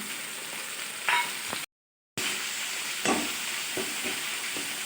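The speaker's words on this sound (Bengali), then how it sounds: "তো একটু ঘেটে দিচ্ছি টমাটোগুলো একটু গলে যাক" Tomatoes with turmeric and coriander powder frying in a pan while being stirred, a steady close sizzle with a few scraping stir strokes and a brief silent gap midway.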